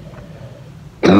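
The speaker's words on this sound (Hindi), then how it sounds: "इतनी सख्त खांसी है मुझे।" A single loud cough bursts out at the end after a stretch of quiet room tone.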